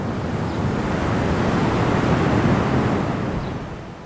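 High ocean waves crash and roar continuously at a coastal cave on the Noto Peninsula in Japan, with a loud, dense surge swelling through the middle and easing slightly, along with wind buffeting the microphone.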